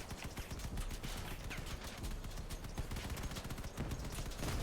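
Enemy guns firing nonstop in the vehicle combat game Crossout: a loud, continuous barrage of rapid shots and impacts packed close together, filling the whole stretch with no pause.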